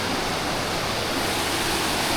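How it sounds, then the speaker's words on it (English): Pistyll Rhaeadr, a 245-foot waterfall in the Cadair mountains of Wales, roaring as a dense, continuous rush of falling water, loud and steady with no other sounds. "So as well as the fabulous waterfall you have here"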